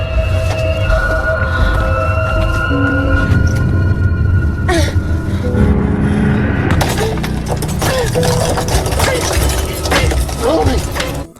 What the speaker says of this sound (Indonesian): Naomi yang frustasi mencoba diam-diam memecahkan kaca mobil agar bisa keluar